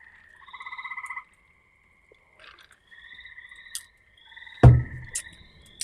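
Spring peeper frogs call in short, clear, high repeated peeps and trills, several bursts spaced apart against a quiet night background, with a brief louder thump near the end.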